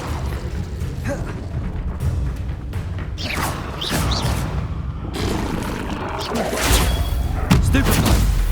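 Combat sounds from an Incendio fire spell in the video game Hogwarts Legacy: dense rumbling bursts and whooshes, with louder eruptions near the end and a voice talking over the action.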